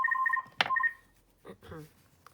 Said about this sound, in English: Oh, excuse me a moment, that's the phone.